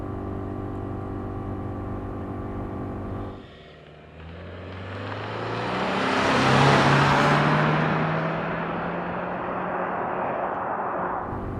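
A 2025 Subaru Forester with CVT, traction control off and sport mode engaged, pulls away after a brief lull, its engine note rising in a long swelling roar heard from inside the cabin, then holding steady near the limiter.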